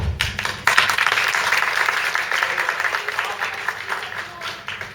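An audience claps after a stage play, a loud, full round of applause with sharp individual claps near the start, carrying on densely and then thinning slightly as it fades.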